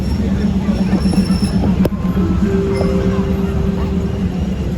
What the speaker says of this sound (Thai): พี่รถไฟมาแล้ว